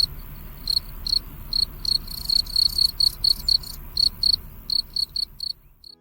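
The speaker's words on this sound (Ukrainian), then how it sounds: "Цвіркун мовчить на дощ, а кричить на сонячну погоду." Crickets chirping in a field on a sunny day, a clear, close, high-pitched trill repeating in quick, regular bursts over a quiet background.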